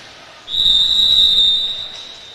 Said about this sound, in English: waiting for the whistle